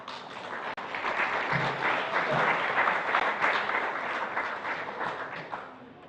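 A church congregation at a united worship service applauds to welcome a guest, a full, even wash of clapping from a crowd at moderate distance, with no talking over it.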